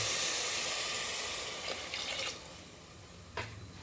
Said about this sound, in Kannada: ಇವಾಗ ನೀರು ಹಾಕ್ತಿದ್ದೀನಿ.